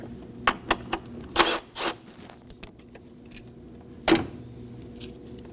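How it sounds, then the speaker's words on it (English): Bolt being backed out with a 10mm socket wrench on the high pressure fuel pump of a 2017-2024 Nissan Armada 5.6L V8: a few sharp ratcheting clicks and metallic taps, then a louder clack near the end, close up and without talk. "Using a 10mm socket,"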